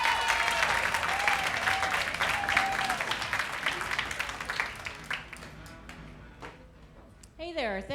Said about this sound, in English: How about a big round of applause for Kay Perrin?